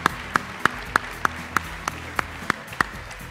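Slow, evenly spaced claps, about three a second, greet foreign guests at a hairdressing show in Riccione, sharp and close over a low room murmur with no crowd roar.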